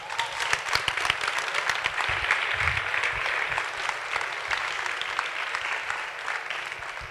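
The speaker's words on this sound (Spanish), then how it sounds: "un aplauso." An audience at a talk on a Pedro Almodóvar film claps steadily for several seconds, dense and sustained in a hall, fading slightly toward the end.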